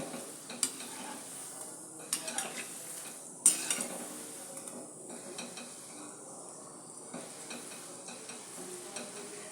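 Gulab jamun balls frying in hot oil with a soft steady sizzle, broken by occasional light clinks and scrapes as they are gently turned in the pan.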